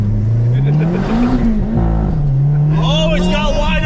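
Sleeper car under wide-open throttle, engine note climbing in pitch, dropping at a gear shift, then rising again, loud and close from inside the car with people talking over it.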